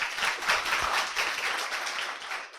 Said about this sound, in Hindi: तो एक बार सर के लिए जोरदार तालियां